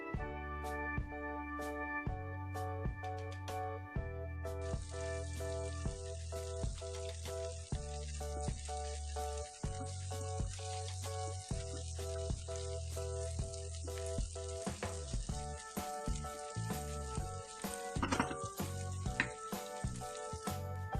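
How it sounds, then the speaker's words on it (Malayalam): Squid frying with curry leaves in a pan, a steady bright sizzle that rises and thickens partway through and then carries on alone, with steady tonal music running underneath. "ഇതിലേക്ക് കുറച്ച് കറിവേപ്പില ഇട്ട് കൊടുക്കാം. എന്നിട്ട് നന്നായി ഫ്രൈ ചെയ്തെടുക്കാം."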